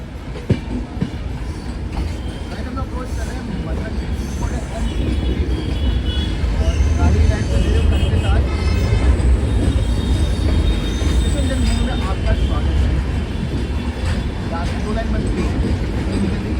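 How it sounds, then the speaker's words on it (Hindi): Kota Janshatabdi Express pulling into Mathura Junction, a loud steady rumble of wheels and carriages with squealing rails and clacking joints, building in the middle and holding close, with faint voices under it. "ये अराइवल हो रही है ट्रेन हमारी जनशताब्दी एक्सप्रेस, कोटा जनशताब्दी एक्सप्रेस।"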